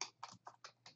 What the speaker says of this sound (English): So in my search bar, I'm going to type